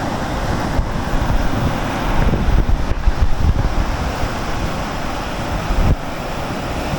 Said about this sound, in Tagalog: Yay, the waves.